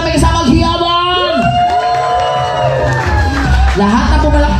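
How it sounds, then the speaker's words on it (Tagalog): Guests at an outdoor seventieth birthday party at a fishpond eatery cheer and whoop loudly, with clapping under rising shouts and voices calling out over a continuous, close crowd roar. "sabay-sabay po tayo magpalakpakan na may kasamang hiyawan!"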